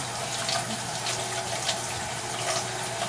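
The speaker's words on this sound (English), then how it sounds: "I'm rinsing them and straining them one more time" Chitterlings being rinsed and strained under running water, a steady, close faucet stream splashing into a sink with no voices.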